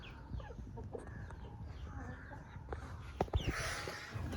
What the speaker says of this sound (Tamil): அட பாருங்க, வள்ளரியன் கோழி எல்லாம் நிற்கிது.